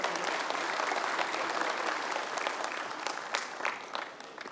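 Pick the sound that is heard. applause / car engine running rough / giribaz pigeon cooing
applause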